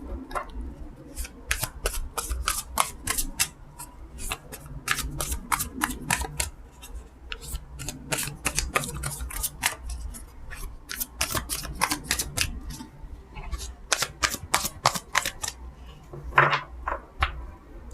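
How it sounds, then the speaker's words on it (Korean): Tarot cards are shuffled and drawn at close range in a quick run of crisp, papery snaps and flicks, with a couple of brief pauses and no one speaking. "커플인 분들 카드 뽑아볼까요?"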